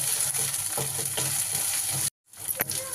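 Sliced onions frying in a pan with ginger garlic paste for a chicken fry, a steady close sizzle with light stirring scrapes, broken by a brief moment of silence near the end before the sizzling resumes.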